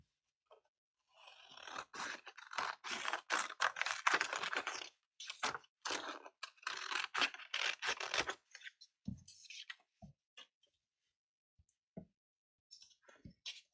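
Large scissors cut and trim paper floral templates at a craft table, a rapid run of close, crisp snips and rustles followed by scattered single cuts and paper handling.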